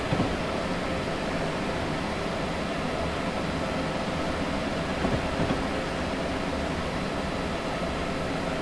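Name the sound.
ACS-64 Amtrak electric train slowing down, from video game Train Simulator 2021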